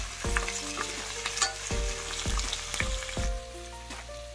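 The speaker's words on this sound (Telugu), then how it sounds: "ఫ్రై చేసేస్తున్నాను ఫ్రెండ్స్." Onions and slit green chillies fry in a pan for a spicy prawn pulao, giving a steady sizzle broken by a few louder scrapes and clanks of stirring, close by with no voices.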